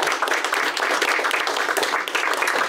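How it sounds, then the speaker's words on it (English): Sustained applause from a large group honouring a nurse's DAISY Award, dense steady clapping filling the room without a break and no voices standing out. "round of applause"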